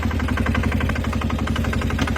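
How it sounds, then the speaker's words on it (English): Polaris utility vehicle's turbo diesel engine running, a loud, close, steady pulsing rumble with a rapid regular knock throughout. "let's see what we can get out of the turbo diesel now"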